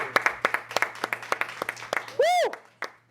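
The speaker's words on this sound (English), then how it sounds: "Let's clap it up for ourselves." A few podcast hosts clapping for themselves in a studio, around twenty sharp close claps in quick succession, then a loud whoop.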